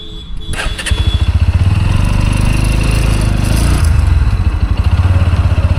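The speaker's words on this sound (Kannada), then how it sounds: "ನೋಡ್ರಿ ಬೈಕರ್ಸ್ ಹೆಂಗೆ ಬರ್ತಾರೆ ತಿರುಗಾಡ್ಕೊಂತ, ಜಾಲಿ ಡ್ರೈವ್ ಮಾಡ್ಕೊಂಡು." Several motorcycles ride past on a road near the Adiyogi Shiva statue in Chikkaballapur, their engines a loud, close, continuous throbbing rumble with pulsing revs.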